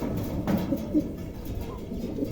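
Pigeons offered for sale coo softly, a few short, low coos scattered over a steady background hum.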